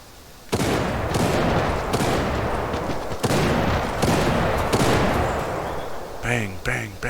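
Gunfire in the StayOut video game, a dense sustained burst of loud repeated shots filling the clip, followed near the end by a few sharper separate reports.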